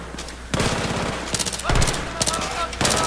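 Rapid automatic gunfire in the Battlefield 3 video game, shooting out a light: bursts of quick, close, loud shots with short gaps between them.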